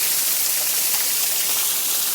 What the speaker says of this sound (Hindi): देखिए कितना सुंदर झरना पहाड़ों से चल रहा है